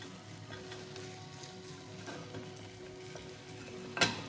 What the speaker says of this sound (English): Push it all from the plate back into the pan